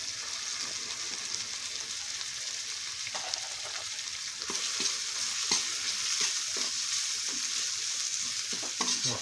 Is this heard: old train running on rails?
no